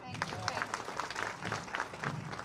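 Scattered, moderately loud clapping from a crowd at a political rally speech, a rippling patter of hands running evenly throughout.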